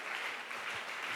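Congregation applause at a Saturday youth-led church service, a steady, dense wash of clapping through the whole short stretch with no clear voice over it.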